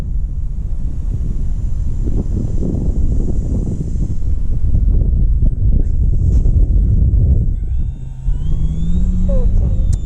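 Steady wind buffeting the microphone, a loud low rumble that persists throughout, with the faint drone of a 1.45 m radio-controlled P-51D Mustang model plane with a 16x10 propeller in the background.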